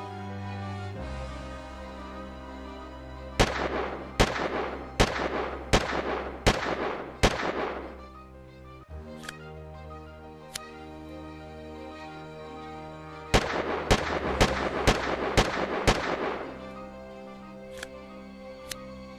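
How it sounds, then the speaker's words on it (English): Spy's revolver fired in the video game Team Fortress 2: two bursts of six sharp, loud shots in quick succession, separated by a quieter stretch with a few isolated clicks and pops over a steady low hum. "what better way to test out a revolver than to start shooting it"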